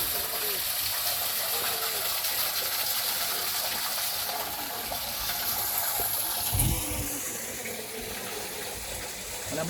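Spring water flowing and splashing steadily at a hillside shrine site in Tanay, Rizal, a continuous broadband rush with a brief heavier splash midway, voices faint in the background.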